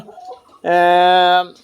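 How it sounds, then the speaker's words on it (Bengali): A rooster on a Tiger chicken poultry farm gives one loud, steady call lasting under a second, close by, after a stretch of faint background sound. "তো মোরগগুলো ডাকতেছে"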